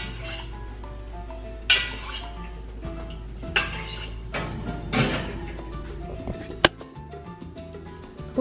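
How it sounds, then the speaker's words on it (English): A metal spoon scraping and clinking against a roasting pan while basting Puerto Rican pernil roast pork, with several sharp taps and clanks spread over steady kitchen background hum, close and moderately loud. "So I'm gonna go ahead and use this spoon to baste it."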